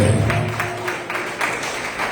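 A packed audience in a church hall claps together in praise of God, a dense, continuous patter of many hands that stays fairly loud throughout.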